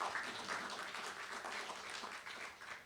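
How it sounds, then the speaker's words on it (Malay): An audience at an RTM Melaka FM 75th anniversary ceremony gives steady, moderately loud applause of many hands that carries on for a few seconds. "Bagikan tepukan."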